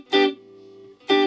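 Two bright, distorted electric guitar strums about a second apart through a Universal Audio Dream 65 amp simulator pedal, each ringing out into a sustained, reverb-washed tail between them.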